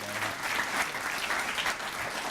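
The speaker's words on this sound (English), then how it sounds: "Let's give the governor a big round of applause." Rotary club meeting audience applauding North Carolina Governor Jim Martin, a dense, even wash of clapping from a room full of people, steady and moderately loud from start to finish.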